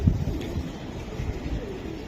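A Giribaz pigeon coos close by, a soft low throaty burst at the very start followed by quieter murmuring coos, with no voices.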